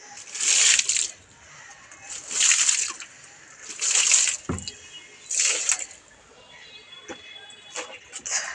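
Water splashes onto potted plants on a rooftop in five separate pours, each a loud gush lasting under a second with brief pauses between, followed by softer drips and sloshes.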